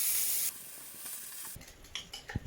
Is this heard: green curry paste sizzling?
yes